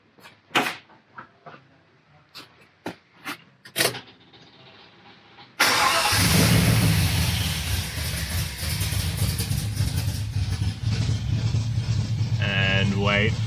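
A Holden VN 5.0 V8 in a 1978 Holden one-tonner build, freshly fitted with a radiator and hoses, cranks after a few clicks and knocks, then fires and runs loudly and steadily at close range, its idle roughening as revs shift.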